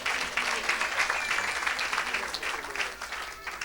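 A church congregation claps and cheers to acclaim the Lord, a dense, steady wash of applause from a large crowd lasting the whole stretch, easing slightly near the end.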